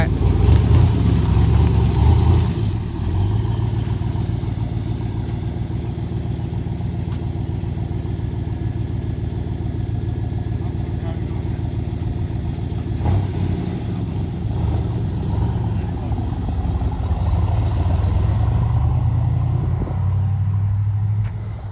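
A 1981 Chevrolet Corvette's engine revs hard, then settles into a loud, steady low rumble held close for a long stretch, swelling again near the end.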